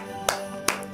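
Two sharp hand claps from children, spaced about a beat apart, stand out against a steady hum during a Christmas party club game.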